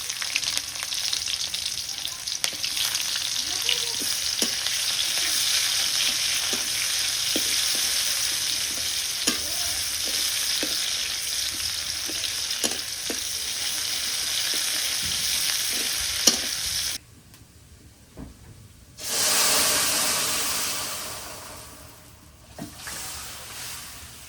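Chopped onion fries in tempering oil in a village kitchen, a steady sizzle with regular spatula clicks and scrapes, briefly dropping out before a loud fresh hiss surges and fades.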